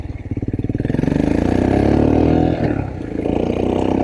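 A Royal Enfield Himalayan motorcycle fitted with a 462 big bore kit and an aftermarket muffler revs up to a loud, steady, throaty roar that dips briefly before picking up again, heard up close with no talking.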